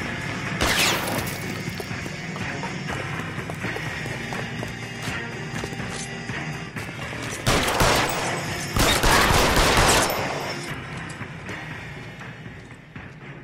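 Gunshots during a rooftop chase in the video game L.A. Noire, several loud bursts of shots scattered among hurried footsteps and clattering, over a steady background of game music and ambience.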